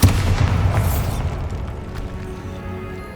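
A Bombarda blasting spell explodes in the Hogwarts Legacy game, a loud sudden boom at the very start that rolls into a long rumbling decay with scattered debris and crackles.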